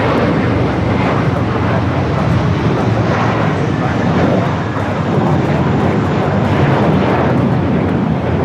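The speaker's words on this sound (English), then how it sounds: "Blue 324 going to JFK. 8-year-old Airbus A321." An eight-year-old JetBlue Airbus A321 bound for JFK roars loudly and continuously at Los Angeles airport, a dense, steady jet-engine rumble with no break and no voices heard.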